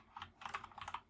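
Quick bursts of typing on a Corsair K70 RGB Rapidfire keyboard with Cherry MX Speed switches, a dozen or so light, close key clicks in fast uneven clusters.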